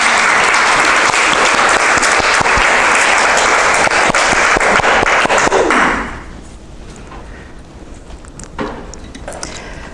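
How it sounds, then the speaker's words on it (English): A church audience gives a loud, dense round of applause that holds for about six seconds, then drops away to scattered claps and faint room noise. "Let's give them another round of applause."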